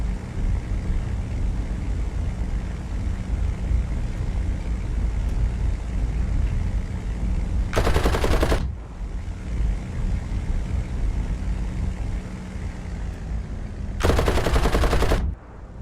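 Game machine guns fire in two short, loud bursts during a flight simulator dogfight, the second burst about six seconds after the first. A steady engine drone hums beneath, and no one speaks.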